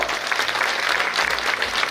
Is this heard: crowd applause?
yes